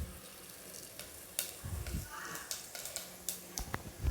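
Cumin seeds fry in hot oil and ghee inside a pressure cooker, tempered with fenugreek and cinnamon for mutton bone soup, giving faint, scattered crackles and small sizzling pops over quiet kitchen background.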